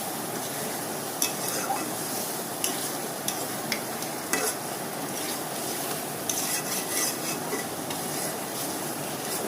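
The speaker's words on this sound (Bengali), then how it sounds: "এখন এই শোল মাছটা দিয়ে কষাবো আমি কিছুক্ষণ" Snakehead (shol) fish being stirred and fried in masala, a steady close sizzle with intermittent scraping clicks of a spatula against the pan.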